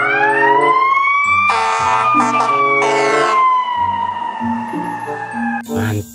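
Toy fire engine siren wailing steadily and loudly in a rising-falling electronic tone, with clicking and rattling toy sounds and brief chirps mixed in over about six seconds.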